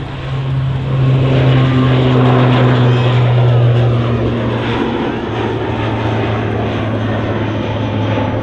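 Airliner departing at Manchester Airport, a loud, continuous engine roar with a droning tonal hum that swells and holds steady throughout.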